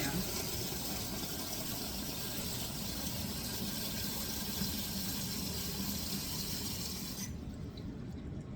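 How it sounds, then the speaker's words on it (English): Water gushes steadily into a metal pressure canner, a full rushing pour that continues evenly before cutting off near the end. "I'm going to put the water in my canner"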